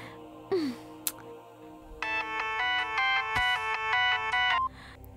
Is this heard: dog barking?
no